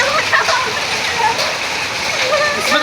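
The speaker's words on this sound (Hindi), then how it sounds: "बैंगलोर में हो रहा है बारिश, बहुत दिन के बाद हो रहा है बारिश।" Heavy rain mixed with hailstones pours down in Bangalore, a dense steady patter and splashing close by, with a voice speaking over it.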